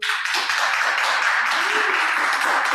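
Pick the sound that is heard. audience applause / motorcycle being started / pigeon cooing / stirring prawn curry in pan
audience applause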